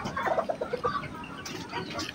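A golden Sebright chicken, a fancy bantam breed kept on a farm, clucks in a short run of soft, close calls over a steady background.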